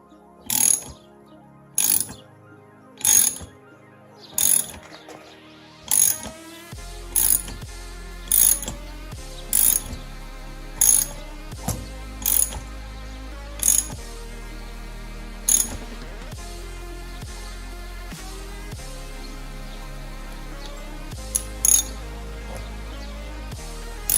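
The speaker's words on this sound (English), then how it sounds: "you grab your ratchet wrench or opening wrench" A ratchet wrench tightens down a metal flaring tool in a rapid series of crisp, evenly spaced clicks, close and distinct, continuing throughout with a low hum underneath in the later part.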